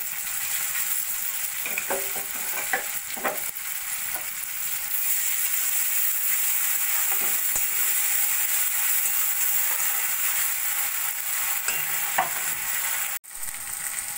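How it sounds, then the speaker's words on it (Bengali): Onion, thinly sliced tomato and a ginger-garlic-green-chili paste fry steadily in a pan for a Bengali sarputi fish curry, a dense continuous sizzle with a few scraping stirs near the start, cut off briefly near the end. "পেঁয়াজটা একটু ভাজা ভাজা হয়ে গেলে দিয়ে দেবো একটা টমেটো পাতলা পাতলা করে কেটে নেওয়া, আর 1 চামচ মতো আদা রসুন আর কাঁচা লঙ্কা বাটা"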